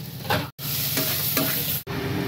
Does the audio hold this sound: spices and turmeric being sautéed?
yes